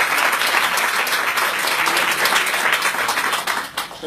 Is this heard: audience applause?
yes